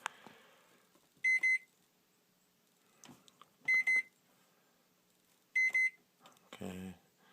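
A microwave oven beeps during clock setting: three separate short double-beep bursts spaced a couple of seconds apart, loud and close in a quiet room, with faint handling clicks between and a brief voice at the end.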